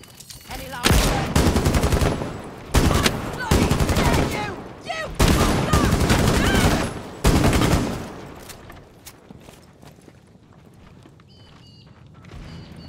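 Rapid bursts of gunfire from the Rainbow Six Siege video game, four loud volleys in quick succession, then quieter game ambience with faint shuffling.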